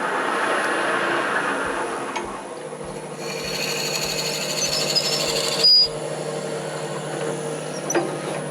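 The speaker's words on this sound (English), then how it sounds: "I'll use my Jacob chuck with a 1/4-inch drill bit." A power drill with a Jacobs chuck and 1/4-inch bit whirs steadily, boring into material with a high mechanical whine and occasional brief clicks, no talking.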